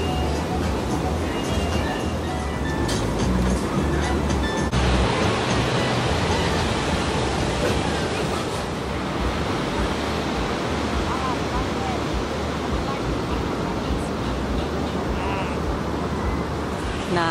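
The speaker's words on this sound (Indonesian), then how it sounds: "Wow, pantai Seminyak." Ocean surf rolls in at Seminyak beach in Bali as a continuous broad wash of waves with some wind buffeting the microphone, and a voice speaks briefly over the noise.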